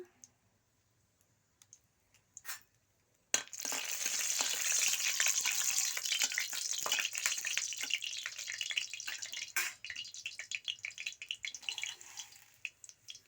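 Refined oil frying in a pan, starting with a few faint clicks and then a sudden loud burst of sizzling that continues steadily with crackles and pops, alone without talk.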